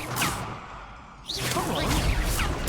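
An Incendio fire spell is cast in a duel in the video game Hogwarts Legacy: swishing whooshes, a brief lull, then a loud rushing flare of flame with whipping sweeps that continues to the end.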